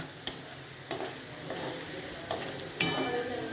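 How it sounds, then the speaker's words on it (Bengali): Potatoes fry crisply in a pan with a steady low sizzle, broken by a few sharp ticks as a utensil knocks the pan, with no voices. "একদম মজমজ করে আলুটা ভেজে নেবে"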